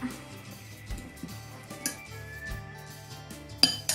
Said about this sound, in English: I've got half of a really ripe banana, so I'm just going to put that in the bowl and mash it up